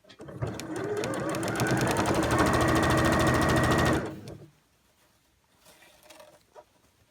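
A sewing machine stitches elastic into a scrubs hat, a fast steady mechanical whirr running loudly for about four seconds before stopping, followed by quiet handling sounds.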